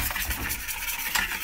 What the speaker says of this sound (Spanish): Y vamos a seguir batiendo.